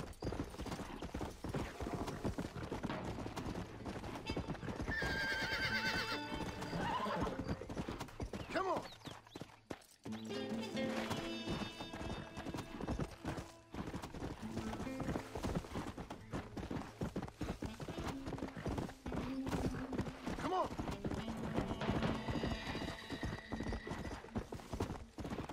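Hooves clip-clop steadily as a horse gallops in Red Dead Redemption, with occasional whinnies and neighs rising over the rhythmic pounding, mixed with outdoor ambience for the full stretch.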